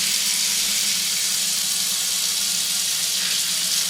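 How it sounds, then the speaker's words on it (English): Very hot water pours steadily from a tap into a kitchen sink lined with aluminum foil, making a loud, continuous rushing hiss with a low hum beneath, and no talking. "let me dump hot, really hot water in my sink"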